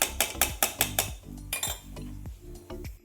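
A metal spoon clinking against a pan or dish while ghee is added to a laddu mixture of rice flour, a quick run of sharp clinks followed by softer scraping taps, close and clear.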